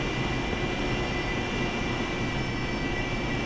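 A Harrier jump jet hovering on its vectored nozzles in the DCS flight simulator gives a steady, loud, broadband jet roar with a faint high whine, unbroken and close throughout.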